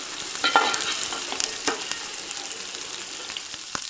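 Fish frying in a pan is stirred slowly, a continuous close sizzle with occasional light clicks of the utensil against the pan.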